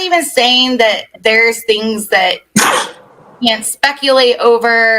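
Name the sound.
sneeze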